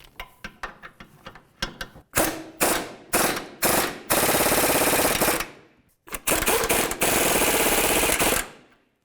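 Impact wrench or ratchet running down the front lower control arm bolts on a 2002-2006 Honda CR-V: a string of short clicking bursts, then several loud rattling blasts and two long sustained runs, close and alone.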